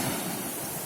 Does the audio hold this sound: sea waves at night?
yes